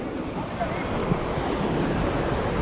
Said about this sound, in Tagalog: lalakas ng alon